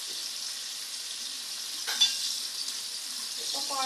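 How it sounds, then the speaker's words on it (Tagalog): Food frying in a pan that is supposed to be non-stick, with a steady sizzle throughout and a short scrape or clack near the middle as a piece stuck to the pan is turned over. "binabaltad ko na. Hirap siyang baltarin guys kasi medyo dumikit sa kawali."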